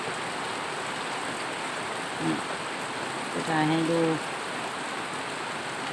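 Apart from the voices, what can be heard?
rain falling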